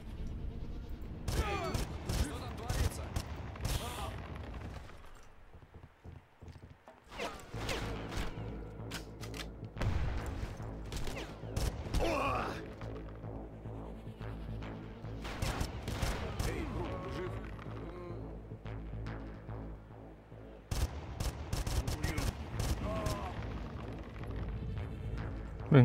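Gunfire from the video game Far Cry rings out in bursts of sharp rapid shots, with quieter gaps between volleys over roughly twenty-five seconds.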